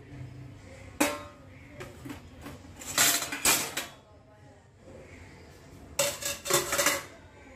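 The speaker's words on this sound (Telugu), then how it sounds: "ఈ గిన్నెల మొత్తాన్ని కడిగేసేసి" Dishes, pots and pans being washed and set into a dish rack, sharp metallic clanks and clatters in irregular bursts separated by quieter rinsing moments, close by.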